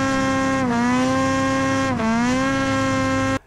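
A Ski-Doo Summit 850X G5 snowmobile engine cranked at full throttle gives a loud, steady, buzzing high-revving drone that dips briefly in pitch twice before cutting off abruptly.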